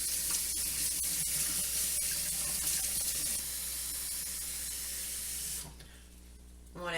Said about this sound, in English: Rinsing them off with cold water